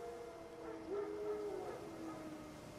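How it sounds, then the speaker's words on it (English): Wild dogs howling somewhere in The Witcher 3, a faint, distant drawn-out howl rising over a low ambient hum, heard alone without talk. "No. Wild dogs. Yes. More dangerous than wolves."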